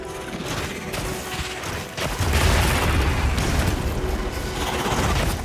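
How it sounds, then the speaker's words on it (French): Explosive vials detonating in the video game Monster Hunter Wilds, a burst of booming, crackling blasts rising sharply around the two-second mark and rumbling on loudly through the rest of the moment. "Effectivement, une explosion se produit."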